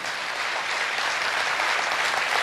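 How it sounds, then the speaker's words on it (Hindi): Dense, sustained applause from an audience at a Hindi poetry recital of heroic verse, a steady wash of many hands clapping at even loudness throughout, with no voices on top. "आपकी तालियां शहादत को शायद बड़ा करें।"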